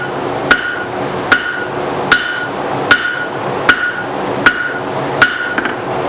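A hammer strikes a double hook held on an anvil horn during forging, eight sharp ringing metallic blows evenly spaced about once every 0.8 seconds, close and loud, each leaving a brief clear ring.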